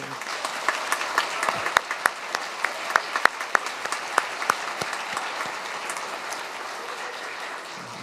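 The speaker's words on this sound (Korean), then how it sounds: "심기윤 신부님 위해서 큰 박수" A church congregation at Suji Cathedral claps for newly ordained Father Shim Ki-yoon during Advent Sunday Mass, a steady, moderately close patter of many hands that gradually thins and softens toward the end.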